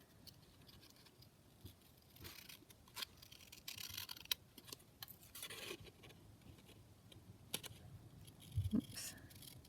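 Scissors snip out paper journaling labels in quiet, scattered bursts of small crisp cuts and paper rustles, close and faint, with no talking.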